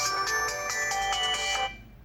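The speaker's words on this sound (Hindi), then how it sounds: "इसकी बेल की आवाज़ सुनाता हूँ।" A mobile phone's ringtone plays through its loudspeaker, cleared by a needle repair of a blocked grille: a bright, repeating electronic melody, loud and clear with no buzz, then cut off.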